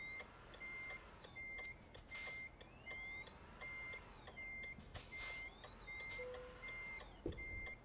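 Reversing warning beeps repeat at a steady pulse from an electric truck backing up in Euro Truck Simulator 2, over a low continuous motor hum with occasional hiss bursts like air brakes.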